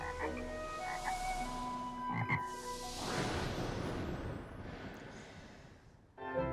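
Toad croaking in the video game The Book of Spells, heard as a clear croak against the game's background music, with a steady noisy wash and no talking.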